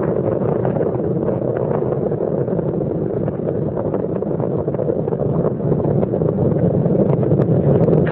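The three liquid-fuel main engines of Space Shuttle Columbia roar during ascent from Kennedy Space Center, a heavy, continuous rumble with crackle that is loud and sustained and has no speech over it.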